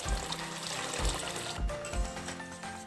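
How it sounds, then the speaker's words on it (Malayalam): Cooked horse gram water pours from close by into a pot of simmering rasam, a continuous splashing, gurgling stream with a few heavier surges of liquid. "ഇനി ഇതിലേക്ക് നമുക്ക് ഈ നമ്മൾ മുതിര വേവിച്ച വെള്ളം ഇതിലേക്ക് ഒഴിച്ചു കൊടുക്കാം."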